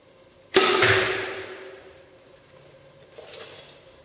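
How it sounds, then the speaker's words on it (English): A single sharp thunk as an arrow from a compound bow strikes a target up close, followed by a faint second impact a few seconds later in a quiet outdoor setting. "you can hear the thunk a little bit on every shot"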